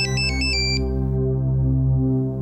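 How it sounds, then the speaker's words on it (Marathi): A phone ringtone plays in a Marathi TV drama scene, a short repeating electronic melody of bright stepped notes that sounds for under a second over a steady low background hum, then stops. "कुणाचा फोन आहे ग?"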